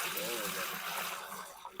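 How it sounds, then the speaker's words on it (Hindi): Water pouring into a large cooking pot for pulao, a steady rushing gush filling the vessel up close with a continuous splashing texture. "दूसरे पतीले में भी 18 लीटर पानी जाएगा।"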